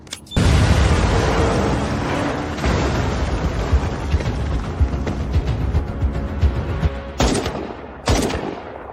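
A bridge blowing up in an AI-generated film: a loud, sustained roar of explosions and rumbling blasts that slowly fades, followed by two sharp late bursts near the end.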